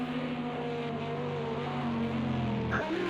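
An Aston Martin race car in Le Mans 24 Hours sim racing drones with a steady, meaty engine note heard from the cockpit, holding pitch before a quick drop and shift near the end.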